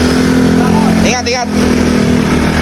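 A motorcycle engine idles and runs loudly and steadily up close, with a steady low drone, while people talk over it.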